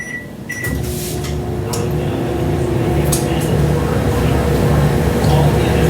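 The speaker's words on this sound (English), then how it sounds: "I'm going to put it in the microwave for 2 seconds." A microwave oven runs with a steady, close electrical hum while softening a small clump of cream cheese on a taco. A brief tone sounds at the start, and faint background talk may sit under the drone.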